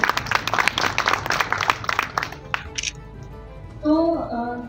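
Crowd applause at a 10 December ceremony in Shyam Nagar, Uchehra tehsil, Satna district: dense, brisk clapping for about two and a half seconds, then thinning out, followed by a brief tonal sound near the end.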